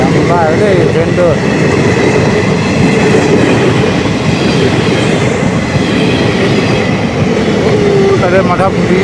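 A train rolls past close by, a steady loud rumble of wagons with clattering wheels and faint squeals throughout, continuous for the whole stretch.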